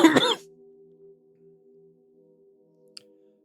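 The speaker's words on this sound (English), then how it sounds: "Persistent cough, dry." A single dry cough right at the start, close and fairly loud, followed by a low steady hum and near silence, with a tiny faint click later on.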